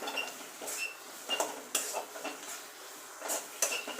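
A spoon clinks and scrapes against a pan as dried red chillies are stirred into mashed pointed gourd, with a few sharp knocks over a soft, faint sizzle and no talking.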